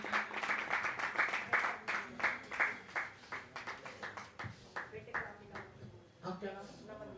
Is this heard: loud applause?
yes